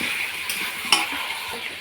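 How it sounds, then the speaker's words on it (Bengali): Meat fries in a pan with a little water, sizzling steadily while a utensil stirs it, with a sharp clink of metal against the pan midway, close and with no voices. "অল্প একটু জল দিয়ে মাংসটাকে ভালো করে নাড়িয়ে"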